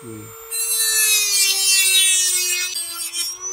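A piece of agarwood is cut and scraped clean with a tool. Steady, loud rasping and rubbing goes on for several seconds after a brief tonal start, with no talking.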